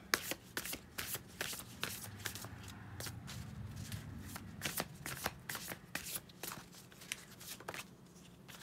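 Spell casting cards are shuffled by hand, giving a quick run of crisp riffling flicks and soft slaps, close and fairly quiet, with no talking.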